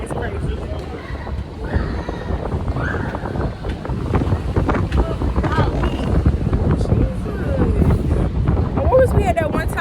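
Strong wind in Texas buffets the microphone with a continuous, gusty roar and rumble throughout, while people talk over it.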